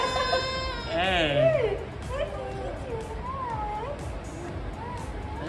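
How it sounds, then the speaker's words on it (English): A cat meows several times at a cat cafe in Kuala Lumpur, with drawn-out, wavering cries near the microphone as people chat and murmur in the background. "It's cat."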